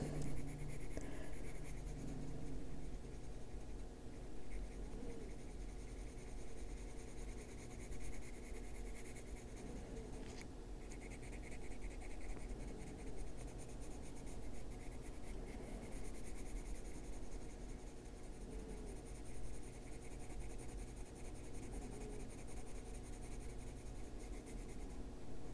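Colored pencil rubbing back and forth on a scrap of paper to flatten its edge, a steady soft scratchy scrubbing that runs throughout at low volume, close up, with no talk.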